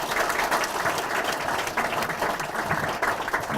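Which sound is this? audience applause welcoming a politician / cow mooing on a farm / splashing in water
audience applause welcoming a politician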